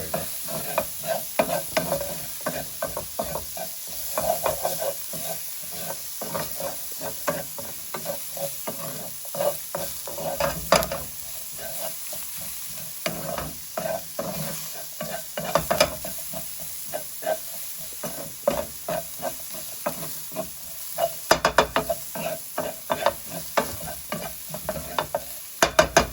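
Vegan stroganoff sautés over a low flame with a constant sizzle, while a utensil repeatedly stirs and scrapes the pan bottom in irregular, close strokes.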